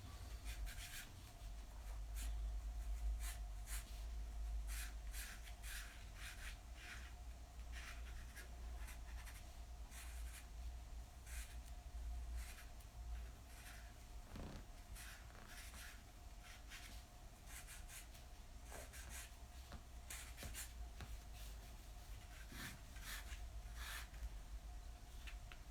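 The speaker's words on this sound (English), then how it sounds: "So enjoyable drawing these pine needles." Pencil sketching pine needles on paper, a long run of quick, short scratchy strokes in irregular bursts, faint and close over a low steady background hum.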